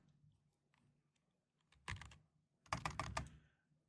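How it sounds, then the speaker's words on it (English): Quick bursts of typing on a computer keyboard, two short clusters of clacking keys heard close and alone in a quiet room. "This moment of typing"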